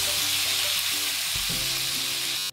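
Sliced onions fry with half a teaspoon of turmeric and salt in a pan for an egg omelette, giving a loud, steady broadband sizzle that runs continuously and cuts off abruptly at the end.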